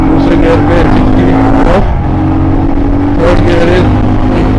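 A Royal Enfield Scram 411 motorcycle on a highway during a top-speed run accelerates hard through its gears, its engine note climbing twice with a brief dip in between, loud and close, under wind noise and a talking voice.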